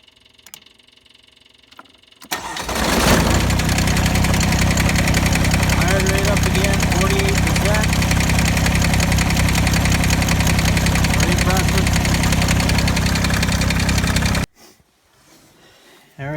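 A loud engine started with a 1000 amp compact jump starter runs steadily at a fast, throbbing idle for about twelve seconds, starting abruptly after quiet and cutting off sharply near the end.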